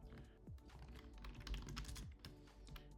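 Quick bursts of keystrokes on a computer keyboard while typing a command into a terminal, close and faint, with irregular clicks and a few heavier thumps.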